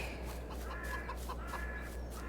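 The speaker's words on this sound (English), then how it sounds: "So I know we have the chickens." Chickens clucking in a small pasture, several soft repeated clucks and short calls over a steady low background hum, with no talk.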